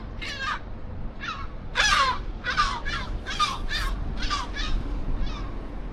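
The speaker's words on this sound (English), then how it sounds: "I'm getting bombarded by the seagulls" Seagulls nesting on a roof give a series of harsh, raspy calls, around ten sharp cries in an uneven rhythm, loud and close over steady outdoor background noise.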